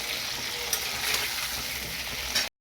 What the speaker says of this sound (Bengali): ছেলের ডিম ভাজা হয়ে যাচ্ছে, দেখতে থাকো বন্ধুরা।